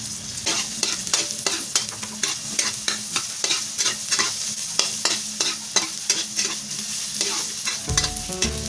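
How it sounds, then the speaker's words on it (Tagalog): Garlic, ginger and onions sauté in a pan for pancit, a constant loud sizzle with a regular, rhythmic scraping of the spatula stirring about twice a second, close and with no talk. "Magigisa tayo. Mauna yung mga bawang at yung mga luya."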